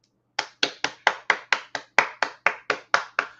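A small round of applause made of about a dozen crisp, evenly spaced hand claps, close and clear against silence.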